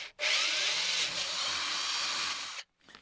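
Power drill pilot-drilling a 2.5–3 mm hole through aluminium and steel on a Land Rover Defender rear door step, a loud continuous whine lasting over two seconds, starting and stopping abruptly, with no talk.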